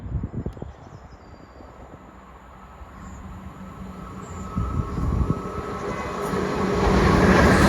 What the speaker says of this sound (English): It's going to be a Chiltern Railway service